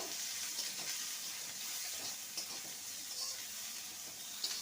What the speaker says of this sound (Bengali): এবার দিয়ে দেবো কোচানো পেঁয়াজ পেঁয়াজটাকেও ভেজে নেব